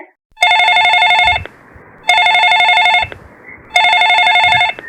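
A telephone rings loudly in three long electronic trills separated by short pauses, close and clear with no one talking.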